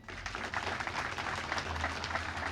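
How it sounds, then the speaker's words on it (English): At a Linden Fire Department promotion ceremony, an audience claps for a newly promoted captain, a brief even burst of applause heard at moderate distance. "Let's have a nice round of applause."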